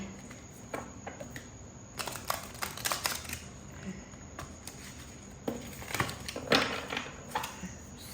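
Tarot cards being shuffled by hand, heard as soft, close riffling and flicking bursts of card noise that come in uneven clusters, with no talking.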